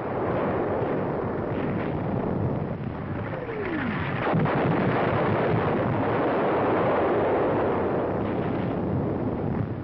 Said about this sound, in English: Direct hit on an enemy 88mm gun position.